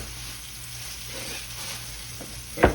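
Bone-in chuck steak searing in a pan, a steady close sizzle throughout, with a brief sharp knock of metal near the end.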